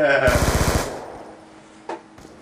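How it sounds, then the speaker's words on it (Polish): Gunfire in Call of Duty: Black Ops 2 multiplayer: a quick burst of about eight loud, close automatic shots that decays into a fading tail, followed by a couple of faint distant pops. "Nie strzelaj na oślep pajacu."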